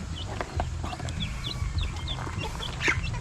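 Chickens on a small Philippine farm cluck and chirp in repeated short calls close by, over a low background rumble, with no talking.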